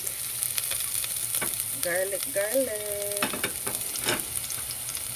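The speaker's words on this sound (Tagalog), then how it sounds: "So I have oil already, and I'm gonna put the garlic." Garlic frying in hot oil, a steady bright sizzle throughout with occasional stirring scrapes and a brief tonal clink in the middle.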